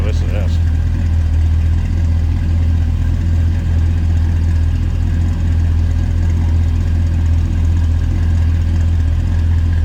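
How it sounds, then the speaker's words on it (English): The engine of a 1965 Chevrolet El Camino idles loud and close with a deep, steady rumble that holds for about ten seconds, with no break in the sound. "Good sounding car. Listen to this."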